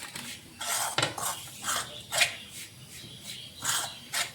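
A spoon works rice flour into hot oil in a metal vessel, giving a run of close, uneven scraping and clinking strokes against the bowl, moderately loud with short pauses.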